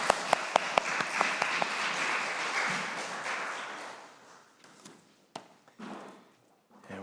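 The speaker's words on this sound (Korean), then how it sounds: "우리 하나님께 영광의 박수 올려드리겠습니다" A church congregation at a Sunday morning service at an Air Force base chapel breaks into broad applause, with a few sharp claps at the start. It swells into a dense wash and then thins out to scattered claps.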